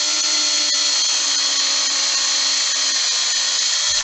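Electric power drill boring through a Flying V guitar body with a bit, a steady high-pitched whine held at constant loud level for about four seconds before cutting off.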